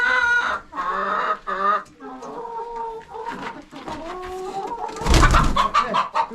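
Newly acquired hens clucking in a backyard coop, their short calls mixed with people chatting nearby and a louder burst of clatter near the end.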